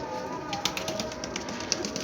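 Pigeons cooing in a loft among birds kept for sale, soft repeated coos mixed with light fluttering and clicking over a steady close background hiss.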